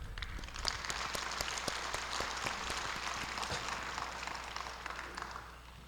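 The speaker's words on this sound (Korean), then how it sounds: "우리 장영태 원장님께 좀 격려의 박수를 부탁드립니다" Encouraging applause from the audience at a fisheries and ocean outlook conference, fairly quiet and distant, with individual claps audible within a steady crowd clatter that fades toward the end.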